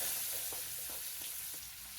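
Medium-size chopped onion dropped into a pan with dried red chillies and spices for bhindi masala, a loud, steady hiss of frying with faint rhythmic stirring taps beneath, no voices.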